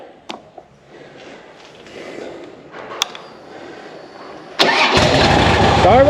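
A few clicks and faint mechanical shuffling, then a Harley motorcycle engine fires up and settles into a loud, steady idle.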